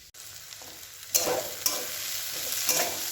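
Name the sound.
food frying in a pan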